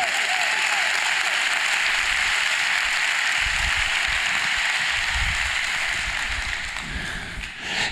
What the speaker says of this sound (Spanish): Así le vas a dar un aplauso, dáselo a Él